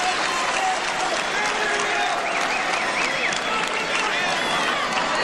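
Thousands of wrestling fans applauding at the Halifax Forum after a title match, a sustained loud roar of clapping and crowd noise with a commentator talking over it.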